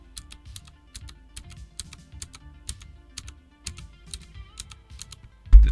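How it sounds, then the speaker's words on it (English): Mechanical keyboard with MX Brown switches fitted with dampeners, typed on close to a microphone: a steady run of soft, muted key clacks in an uneven rhythm, ending with a loud bump against the mic. "That's what the keys sound like."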